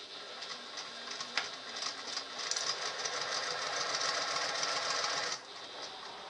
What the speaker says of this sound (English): Make sure you're reversing your stitches and not going past those marks.